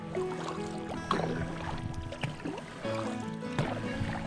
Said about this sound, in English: Vi paddlar på då. Vi paddlar runt Enstö kanske.